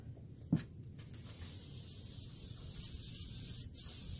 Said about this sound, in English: spray the entire batting where the quilt top will be touching